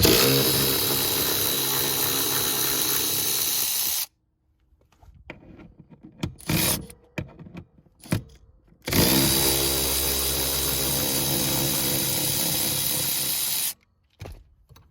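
A power tool runs in two long continuous bursts, loud and close, loosening 14 mm seat bolts on a 1987 Toyota 4Runner, separated by a stretch of quieter clicks and handling noises, with a short final burst at the end.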